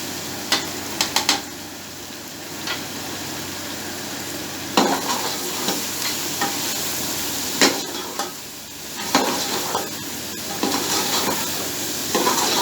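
Spices fry loudly in a pot for chicken egg biryani, a continuous close sizzle punctuated by sharp metallic scrapes and knocks as they are stirred, with no speech.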